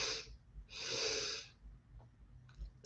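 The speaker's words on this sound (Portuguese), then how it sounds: "Mais uma vez, inspira," A deep inhalation during a guided breathing exercise, heard as two soft, breathy airy swells close to the microphone, the second longer, with quiet pauses around them and no talking.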